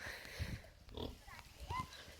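Pigs on a farm, a mother and father pair, give a few brief grunts and oinks at close range, mixed in with people talking over them.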